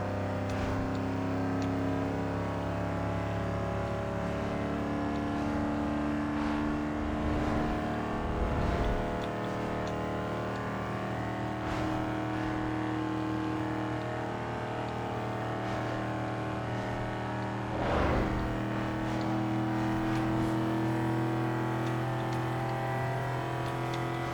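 Engines drone steadily through a freeway race in Need for Speed Underground 2, with sustained layered engine tones, occasional revving swells and a couple of brief rushing passes, loud and continuous without talk.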